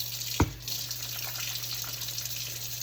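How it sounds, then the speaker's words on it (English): A tap runs steadily nearby, a soft continuous hiss of water with a brief thump near the start as hands move under the stream for washing. "I'm gonna go and wash my hands with hot soapy water"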